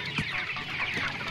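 Broiler chickens at about 21 days old cluck and chirp together in a dense, continuous flock chatter, close and steady with no talk.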